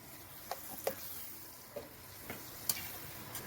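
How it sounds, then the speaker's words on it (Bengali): Pointed gourd is stirred into frying onions in a pan, giving a faint, soft sizzle broken by about six sharp taps of a spoon against the pan, spaced unevenly. "এই পেঁয়াজের মধ্যে দিয়ে পটলটাকে ভালোভাবে নাড়িয়ে নেব"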